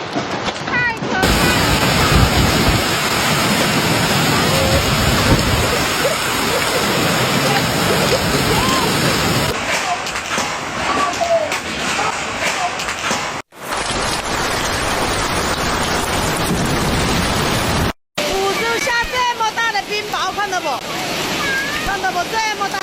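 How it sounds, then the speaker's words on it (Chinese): Large hailstones pound down during a severe storm in China, a dense, loud, continuous roar of impacts with two brief breaks, and the texture shifts partway through. "看到不？ 这么大的冰雹"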